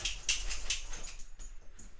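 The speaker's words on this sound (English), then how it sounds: "Yes, that was the dog shaking." A dog shaking itself off indoors, a dense flapping rattle of fur and ears in rapid bursts, close by and fairly loud with no talking.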